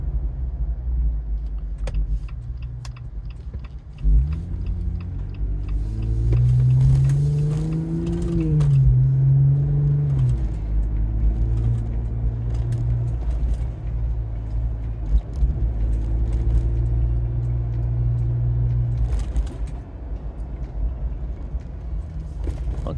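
Lifted vehicle with an AccuAir 3.5-inch dynamic lift kit and JRI monotube shocks driving on a rough road, a steady low engine and road rumble from inside the cab with a rising and falling engine tone.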